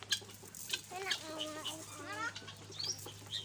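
Chickens clucking at a small animal farm in Uttaradit, Thailand, several short near clucks and calls, with a child's and adult's voices talking quietly around them.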